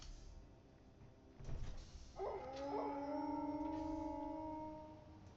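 Dogs howl in a survival video game: after a couple of soft thuds, two long overlapping howls rise and hold as sustained wavering tones, moderately close over a low background hum.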